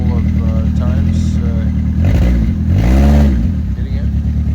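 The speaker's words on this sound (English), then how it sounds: "Hear the exhaust issue on it." A 2003 Kia Rio with a faulty exhaust idles roughly and then revs twice, giving a loud, rattly, uneven drone with the exhaust leak clearly audible. Someone talks over parts of it.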